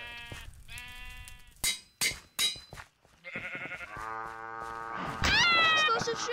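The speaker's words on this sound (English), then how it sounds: "Explosive sheep!" Sheep bleat in a Minecraft-style farm hunt game, several loud, wavering bleats in quick succession, mixed with other game sounds and a high rising tone near the end.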